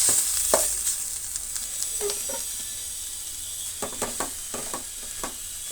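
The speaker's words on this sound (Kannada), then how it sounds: "ಈಗ ಸ್ಟವನ್ನು ಸ್ವಲ್ಪ ಸಿಮ್ ಡೌನ್ ಮಾಡಿ ರೈಸು ಎಲ್ಲ ಕೂಡ ನಾವು ಮಿಕ್ಸ್ ಮಾಡ್ಕೊಂಬಿಡೋಣ" Vegetable tamarind rice being stirred in a pan over a low stove flame, a steady soft sizzle under repeated scraping and clinking strokes of the spoon, clustered near the start and again toward the end, with no voices.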